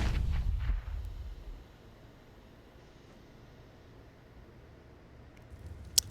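A Counter-Strike pro match on the Vertigo map: a heavy, booming gunfire burst opens, fading within about a second and a half into quiet game ambience, then one sharp crack lands near the end.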